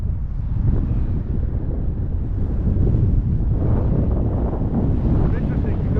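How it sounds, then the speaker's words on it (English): Strong easterly wind buffeting a microphone on a city street, a steady, loud, low rumble that stays constant throughout. "now an easterly wind is hitting me"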